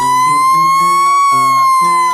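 A loud, close fire truck siren wails steadily, a high sustained tone over a lower alternating two-tone pattern, with no voices.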